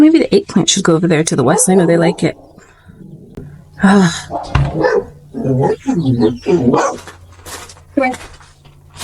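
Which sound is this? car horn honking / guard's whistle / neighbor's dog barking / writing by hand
neighbor's dog barking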